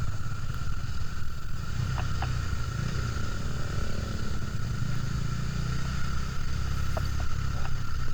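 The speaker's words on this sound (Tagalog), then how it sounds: "Sarap lang sarap din ng motor na ginamit ko kasi big bike ngayon 400cc na UG Dominar" A 400cc Bajaj Dominar big bike cruises on a road ride from Trece Martires to Kaybiang Tunnel, its low engine drone steady under heavy, constant wind rush.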